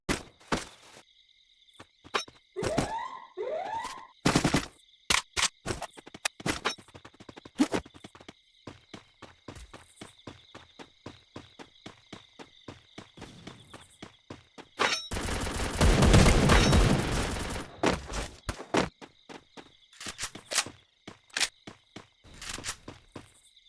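Gunfire in the Free Fire battle royale game: bursts of rapid shots and single cracks with footsteps between them, then a dense sustained volley near the middle, all fairly loud with no talking.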